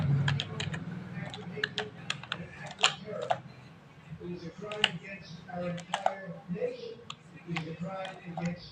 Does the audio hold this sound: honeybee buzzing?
no